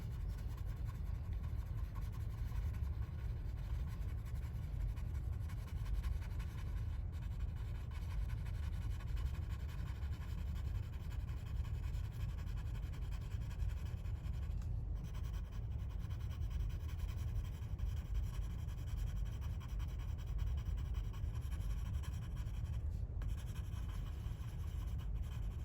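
Soft, continuous scratching of a pencil colouring a sphere drawing with small circular strokes, faint and steady throughout with no voice.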